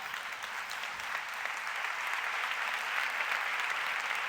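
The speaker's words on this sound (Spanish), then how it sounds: "Les agradezco un montón y lo siento como un gran regalo sus aplausos" Audience at a talk breaks into sustained applause, a dense, even wash of many hands clapping that carries on for several seconds, heard from some distance and rather soft in level.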